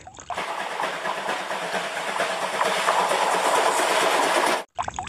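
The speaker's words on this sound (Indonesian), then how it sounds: "ini kereta api si Thomas" A steady rattling, rumbling mechanical sound with a clickety-clack texture from a toy Thomas train runs close and continuous for several seconds, then cuts off abruptly.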